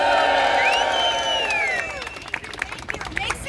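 A rally crowd in New York cheers and applauds as an assemblywoman is welcomed, whoops and shouts sweeping over steady clapping, then settling into scattered claps and murmur.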